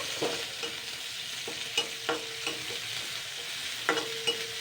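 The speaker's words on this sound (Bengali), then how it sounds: "পেঁয়াজটাও একটু হালকা ভাজা করে নেব।" Chopped onions lightly frying in oil in a pan, a continuous soft sizzle broken by several sharp scrapes and knocks of a spatula at irregular intervals.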